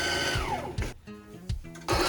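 A heavy-duty sewing machine aboard a sailboat stitches winch covers, running in bursts of whirring motor noise that stop and restart in a loud, close, uneven rhythm.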